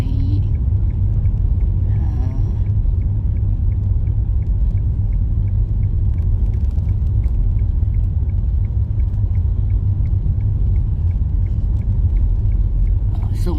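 A car drives along a secondary road in Korea through a heavy snowstorm with about 15 cm of snow down, giving a loud, continuous low rumble of engine and tires from start to finish.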